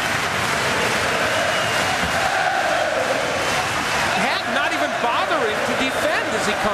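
A dense, constant roar from a packed boxing arena crowd during the Kostya Tszyu vs Ricky Hatton fight, with a commentator talking steadily over the noise.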